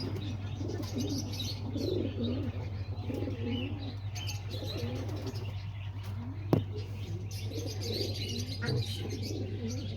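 A homing pigeon, the father bird, sits on eggs in its nest, giving soft, close coos and chirps over a steady low hum, with one sharp click partway through.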